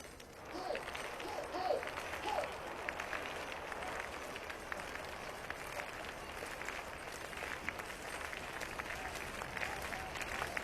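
A crowd of spectators at a women's biathlon World Cup sprint in Annecy, France claps in sustained, dense applause, loud and continuous with a few voices rising early before settling into steady clapping.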